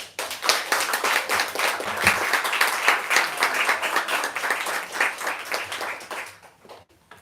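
An audience at a Rutgers University book event claps warmly to welcome Tess and Adam. The applause is dense and sustained, then thins and fades out near the end.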